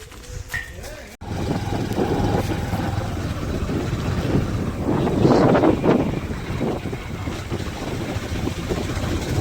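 A boat's low, droning rumble on the water at Champakulam, Kerala, mixed with wind buffeting the microphone, swelling slightly midway and running continuously after a sharp cut near the start.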